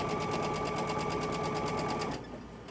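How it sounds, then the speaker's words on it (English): A sewing machine stitches the ends of a fabric piece with a fast, even mechanical whir, loud and close, then stops abruptly near the end. "But first we're going to sew each end."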